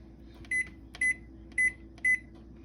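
A microwave oven at night gives four short, evenly spaced electronic beeps over a quiet background hum, with no talking.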